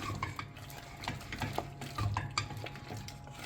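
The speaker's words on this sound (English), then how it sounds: "Stir it all up" A spoon stirs sauce in a pot of pesto mac and cheese, with repeated scraping and clinking strokes against the pot in an uneven rhythm, close and moderately loud.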